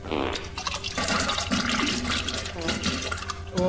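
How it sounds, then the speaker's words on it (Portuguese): A toilet flushing, water rushing and gurgling as the bowl refills, fairly close and steady, with some voices in the background. "vê se puxa a descarga"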